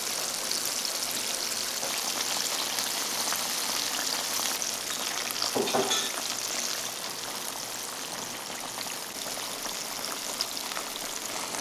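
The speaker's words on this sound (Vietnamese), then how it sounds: "Khi chiên, phần vỏ bánh bên ngoài phồng lên giòn rụm rất là ngon luôn." Steady, dense sizzling and crackling of spring rolls deep-frying in hot oil, continuous and fairly close, with no voices.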